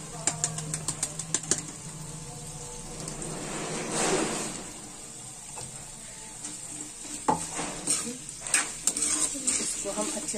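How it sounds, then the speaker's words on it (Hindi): Crushed jaggery sizzles with amla in a pan while a spoon stirs and scrapes against the metal, a steady close frying hiss broken by clinks of the spoon. "इसको हम अच्छे से इसके साथ पकाएंगे जब तक हमारा गुड़ पिघल नहीं जाता"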